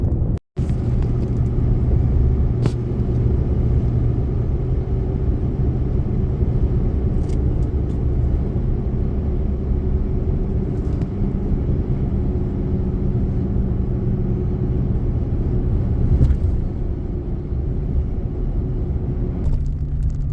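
A vehicle driving a section of the Washington Backcountry Discovery Route gives a steady, loud low engine and road rumble that holds for the whole stretch, with a few brief knocks and no voices.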